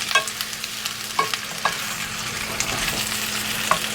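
Shallots and cucumbers sizzle in a pan while being tossed, a constant frying hiss with a low hum beneath and sharp intermittent clinks and scrapes from the utensil.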